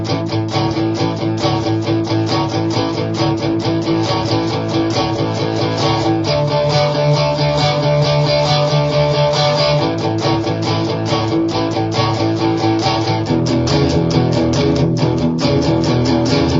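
A guitar lick alternating root and fifth over 1, 4, 5 chords, played fast and steady as a dense, continuous run of picked notes. It lasts the whole stretch at an even, loud level with no talking.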